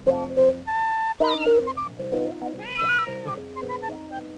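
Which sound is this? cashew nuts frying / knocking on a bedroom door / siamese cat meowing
siamese cat meowing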